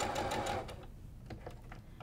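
A sewing machine stitches a Sawtooth Star quilt block with a short, loud burst of rapid needle strokes, then stops, and a few light clicks follow in the quiet.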